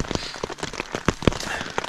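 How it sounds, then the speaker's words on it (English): Rain pattering at a campsite in the Canadian Rockies during a hiking trip, an irregular scatter of close drops and taps with a couple of louder hits, no voices. "it's been raining for the past while,"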